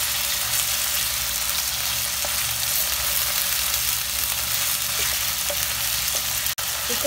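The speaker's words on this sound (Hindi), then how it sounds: "और चिकन को हम जब तक इसका कलर चेंज नहीं हो जाता तब तक फ्राई करेंगे।" Chicken pieces fry with garlic in a pan, a steady, loud, close sizzle that hardly varies, with a few faint clicks from stirring and no talking.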